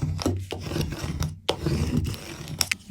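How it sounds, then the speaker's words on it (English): A plastic scraper rubs transfer tape down onto vinyl in several short rasping strokes, close and fairly quiet, with brief pauses between passes and no talking. "Now I'm going to use a scraper to make sure that the transfer tape is sticking to the vinyl very well."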